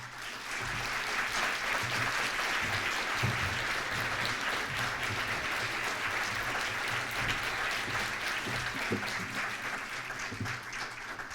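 A large audience applauds to welcome Senator Sanchez at an evening event: dense, sustained clapping that holds steady for about ten seconds with no one speaking over it.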